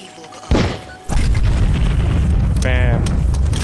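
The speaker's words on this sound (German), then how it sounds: "Ein großes Kabum. Und schon ist der Weg frei." An explosion clearing a path in the video game Outcast: a sudden heavy boom, then a second louder blast that settles into a sustained rumbling roar with debris, ending with a brief rising whine.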